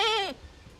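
A Nubian goat lets out a single short, clear bleat with a wavering, falling tone, close by, followed by quiet.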